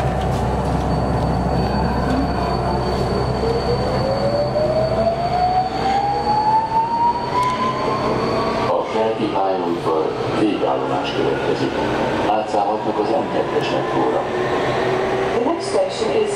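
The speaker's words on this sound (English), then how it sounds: "this is my first time riding on an automatic train that's made by Alstom" Ride aboard an automatic Alstom-built train on Budapest Metro Line 4, with steady loud rumbling and a rising whine as the train accelerates, then clattering and squealing wheels through the rest.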